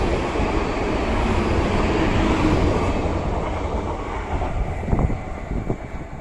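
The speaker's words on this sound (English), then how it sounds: "Where I now get on a train and go along to Taunton." A train at Exeter St Thomas station passes with a loud, steady rumble and some wind buffeting, close to the listener and with no voices.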